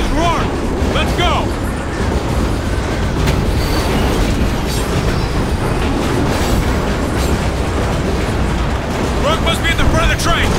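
A moving train rumbles on in the Call of Duty: Ghosts game, a loud continuous roar with clattering and wheel noise. Game voices and combat sounds come through over it.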